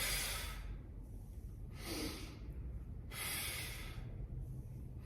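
Three forceful exhalations in close succession, each a loud breathy rush of air during a shoulder mobility exercise, separated by quieter pauses.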